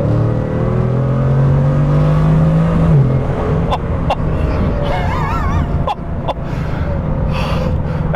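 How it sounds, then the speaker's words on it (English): A Bugatti Chiron engine revs up and falls back, its pitch climbing, followed by sharp pops and crackles, close and loud. "even just tapping the throttle, you can hear the engine start to do its thing"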